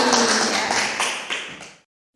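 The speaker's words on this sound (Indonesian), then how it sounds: "kasih tepuk tangan lagi buat Mbak Dewi" Classroom applause for a student, a dense wash of many hands clapping at close range that carries on steadily for nearly two seconds before cutting off abruptly into silence.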